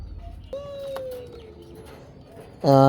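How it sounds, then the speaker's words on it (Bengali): A pair of teddy high-flyer pigeons gives a soft, low coo, followed near the end by a sudden louder call close by against a quiet room. "এক পেয়ার টেডি কবুতর"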